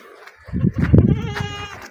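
A goat gives one close, wavering bleat that rises and fades over about a second, with no other voices nearby.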